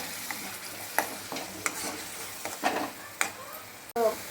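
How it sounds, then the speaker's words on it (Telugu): Tomato paste mixed with yogurt frying in a pan for mushroom curry, with irregular spatula scrapes and taps over a faint sizzle, close, ending in a sharp knock. "దీన్ని కొంచెం మధ్య వరకు పచ్చివాసన పోయే వరకు ఫ్రై చేసుకోవాలి"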